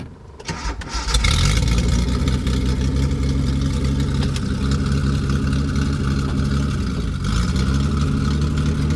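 A Datsun 240Z fitted with a junkyard engine cranks, catches and settles into a loud, steady running rumble close by, with brief revs and no talk over it.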